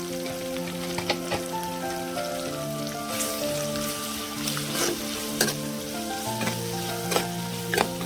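Onions, green chillies and ginger-garlic paste frying in an oil tempering for brinjal masala curry, giving a steady close sizzle with occasional stirring clicks, while music plays in the background and no one speaks.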